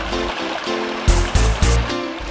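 Water flowing over a small dam built from local stones and gravel for a pico hydropower site, a steady close burble with a few louder splashing surges.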